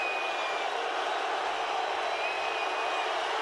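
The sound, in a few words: Lobo basketball crowd during Nevada free throw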